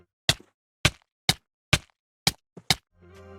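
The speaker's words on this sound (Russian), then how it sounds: "Этот звук вселит страх в сердце любого игрока в Майнкрафт." Minecraft's damage sound recreated with a matchbox: six sharp, short thuds at roughly half-second intervals, close and punchy with silence between hits, followed by a faint fading tone.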